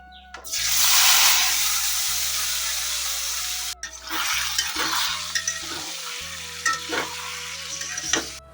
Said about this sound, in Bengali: দিদিকার জন্য মাছ ভাজা করছি